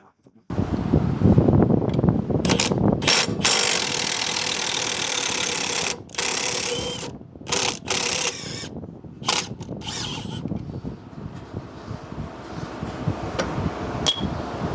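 Wrench loosening an 18 mm strut bolt in the cramped front suspension of a 2017 Dodge Charger RT, heard as repeated metallic ratcheting and clanking bursts with short pauses, close and fairly loud against wind-buffeted background noise.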